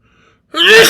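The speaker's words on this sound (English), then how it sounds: "That was a big sneeze." A single big, loud sneeze bursts out suddenly after near silence, close and forceful.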